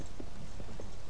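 A horse in Zelda: Tears of the Kingdom trots with soft, muffled hoof clip-clops at an even pace over a dense, steady game background, with no talk.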